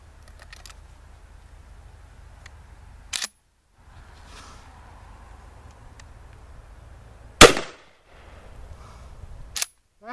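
An IAC Hawk 981R shotgun fires S&B buckshot. Three sharp, loud reports are spaced several seconds apart, with the strongest in the middle, separated by quiet low background and brief silences.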